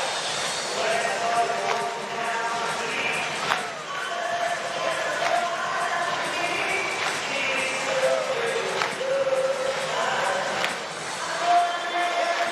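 A big stadium crowd at a Savannah Bananas game in Petco Park, San Diego, clapping along in a continuous rhythmic wash with cheering, while an announcer talks over it.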